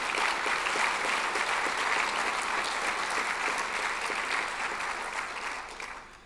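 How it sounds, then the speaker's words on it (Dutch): Dense, steady audience applause fills a party congress hall of the Dutch D66 party, a loud crowd of clapping that holds for several seconds before thinning and fading toward the end. "Graag een groot applaus voor deze mensen."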